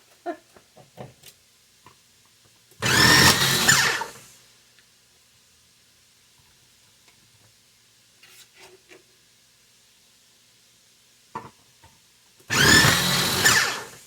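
A food processor chops cabbage, carrots and onions in two loud whirring bursts of about a second and a half each, separated by a long quiet stretch with faint handling clicks.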